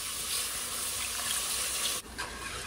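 Tap water gushes steadily into a soup pot, 3.5 cups for a creamy gluten-free mushroom soup, a loud continuous splashing stream that briefly dips near the end before resuming.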